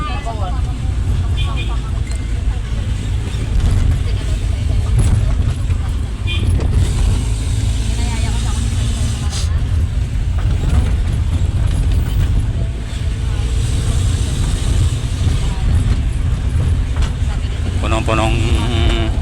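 Steady, loud engine hum and road rumble fill the cabin of a new leased car packed with passengers riding to a bathing spot, with people chatting over the continuous noise.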